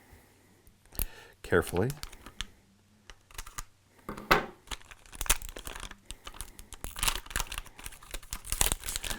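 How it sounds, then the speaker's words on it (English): Plastic baggie from a Satiator box being opened, with crinkling, tearing and rustling bursts of plastic, close up and intermittent, while a voice briefly speaks. "I want to open up the plastic baggie here"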